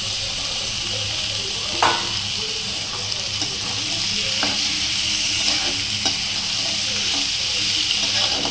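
Peas and cabbage frying in hot oil, with a loud steady sizzle and scattered sharp spatters and pops throughout, heard up close without talk.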